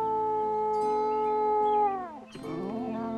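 A cartoon poodle howls in distress, one long sustained wail that slides downward and breaks off, followed by a softer whimpering cry; close and loud, with no talking.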